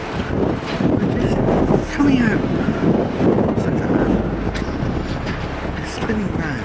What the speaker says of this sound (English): It's a bit windy, so I hope you can hear.